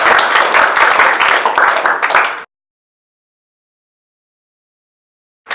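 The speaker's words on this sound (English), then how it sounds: "Big round of applause for that" Audience applause and clapping at an interview event, a dense burst of many hands lasting a couple of seconds before cutting off abruptly, with a brief return at the very end.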